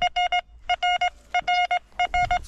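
Metal detector sounding over a small buried copper coin, loud clean beeping tones in quick triple bursts repeating four times with short gaps, close and alone.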